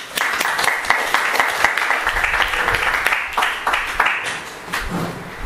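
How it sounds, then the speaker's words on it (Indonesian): Audience applause at a political school seminar talk on new social movements, a sustained burst of dense clapping from a room full of people, loud and steady for several seconds before thinning slightly at the end. "Aplaus."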